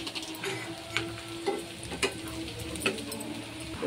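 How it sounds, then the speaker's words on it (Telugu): Cumin seeds frying in hot oil with garlic, a steady sizzle broken by sharp, regular ticks of a spoon stirring the pan, close and fairly quiet. "జీలకర్ర కూడా ఫ్రై అయ్యింది"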